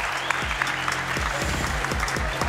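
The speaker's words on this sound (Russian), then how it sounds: "есть такой шквал аплодисментов обоим спортсменам" A crowd applauds both fighters at an ACA YE 22 mixed martial arts event, Akhmed Khamzaev vs. Shabdan Sarykov, with continuous arena clapping and cheering under deep, rhythmic thuds from a loud venue sound system.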